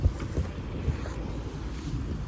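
Outdoor wind buffeting a microphone near a car, a low rumbling roar with a few thumping gusts over about two seconds, close and fairly loud, with no clear speech.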